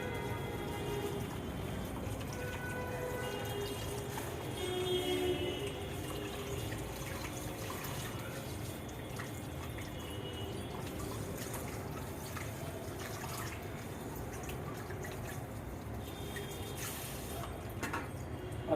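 Running water rinses a hair wig patch after shampooing, a steady splashing, gurgling wash that stays close and continuous throughout.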